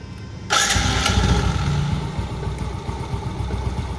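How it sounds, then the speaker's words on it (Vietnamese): A Yamaha Jupiter V motorcycle engine cranks and catches, then settles into a steady, rough idle close by. "nổ máy cho anh"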